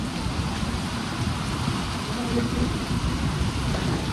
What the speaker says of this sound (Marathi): इथे खूप जोरात पाऊस चालू झालेला आहे अचानकपणे